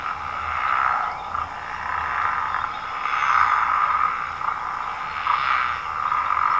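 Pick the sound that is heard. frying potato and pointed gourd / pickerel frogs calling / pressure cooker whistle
pickerel frogs calling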